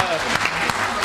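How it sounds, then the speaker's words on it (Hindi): Audience clapping at a Hindi comic poetry gathering, a short burst of dense, steady applause with a few sharper claps, heard together with a voice speaking over it. "बहुत बढ़िया, तालियां।"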